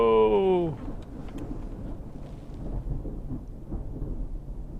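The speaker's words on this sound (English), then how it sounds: "It's having a go today. Bit of thunder." Thunder rolls during a thunderstorm as a low, sustained rumble that grows and churns in the distance after a brief voiced exclamation at the start.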